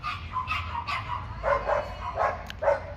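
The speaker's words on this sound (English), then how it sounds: "the dogs are aggravating" Dogs barking outdoors in a neighborhood yard, a series of repeated barks and yips at moderate distance over steady low background noise.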